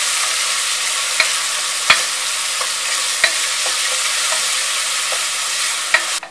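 Sliced onions frying in hot oil with cinnamon and cardamom for mutton kuzhambu, a steady close sizzle broken by a few sharp clicks from stirring or scraping against the pan.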